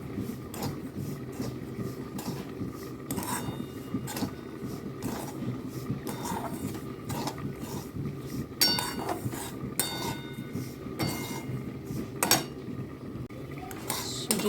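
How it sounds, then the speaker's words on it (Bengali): Semolina being dry-fried in ghee in a pan, heard as a steady low scraping and frequent light clinks and taps of a spoon against the pan, moderately close, with no talking. "আমি সুজিটা বসিয়ে দিয়েছি, এর মধ্যে ঘি দিয়ে দিলাম, দিয়ে একটু ভাজবো"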